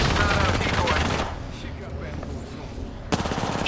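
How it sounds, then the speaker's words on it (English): Apex Legends gunfire with loud, rapid automatic bursts: a dense volley at the start, a quieter lull, then another sharp burst near the end. "She's shooting at me."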